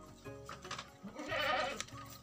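Goats bleat loudly in a windy rural village, several overlapping cries in a short burst, with wind noise underneath.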